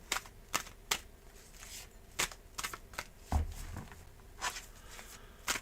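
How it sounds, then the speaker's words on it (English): Tarot cards are shuffled in soft, uneven riffles and sharp taps, close and quiet, with pauses between the bursts and a dull thump partway through. "All right, shuffling."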